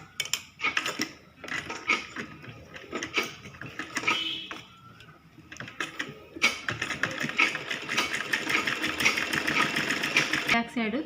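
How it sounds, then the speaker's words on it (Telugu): A sewing machine stitches a child's lehenga choli in quick runs of rapid mechanical whirring and clatter, stopping and starting, with a person talking over parts of it. "ఇదే విధంగా 2 సైడ్ అనేది కుట్టుకోవాలి."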